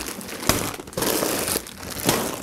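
Plastic bags of LEGO bricks are handled and lifted from a cardboard box, giving loud crinkling and rustling in bursts with short sharp crackles, close by and with no talking.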